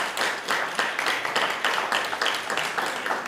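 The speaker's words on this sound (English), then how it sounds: "Big round of applause." Applause at a school board meeting, steady clapping from a room of attendees lasting the whole moment at moderate level, without voices over it.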